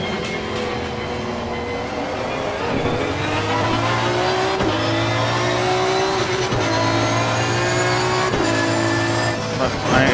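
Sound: Aston Martin V12 GT3 engine in video game Assetto Corsa Competizione

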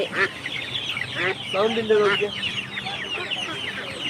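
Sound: chickens and turkeys clucking

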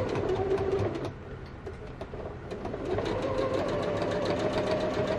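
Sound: sewing machine reinforcing a quilt's stitching

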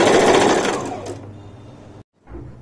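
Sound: sewing machine stitching a kaftan

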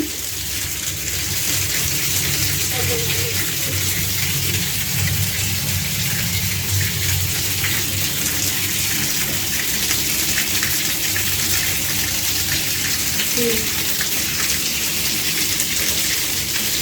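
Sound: muddy water gushing out while flushing radiator panels

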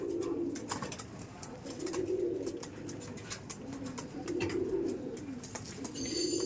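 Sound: pigeons cooing

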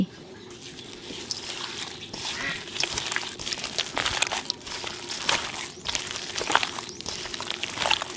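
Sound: kneading fish cake mixture by hand

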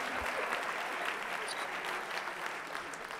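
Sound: studio audience applause

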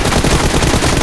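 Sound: gunfire in the video game PUBG

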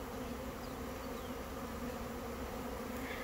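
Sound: honey bees buzzing around a hive being robbed

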